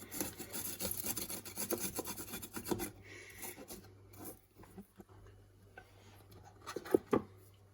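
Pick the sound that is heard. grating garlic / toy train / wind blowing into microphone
grating garlic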